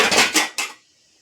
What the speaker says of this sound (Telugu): అందులో నేను కాలీఫ్లవర్ వేస్తున్నానండి ఇప్పుడు.